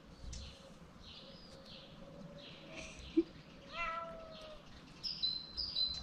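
A ginger cat meows a few times, fairly faint and close, against a quiet indoor background with soft chirping sounds near the end.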